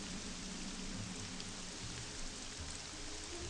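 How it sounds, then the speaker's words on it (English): Steady wash of water splashing like rain, glitching through the ground in the video game Morrowind, a constant hiss without pauses and no voices. "I thought there was like splashes of rain on the ground, and I'm kind of right."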